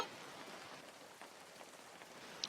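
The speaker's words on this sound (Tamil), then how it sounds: "மழை வேற ரொம்ப பெய்யுது" Heavy rain in a cartoon falls as a constant dense hiss with scattered drop patters, steady throughout, with no voices.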